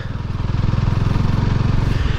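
A motorcycle engine idles steadily up close while warming up, its loud, rapid thumping pulses holding a constant rhythm throughout.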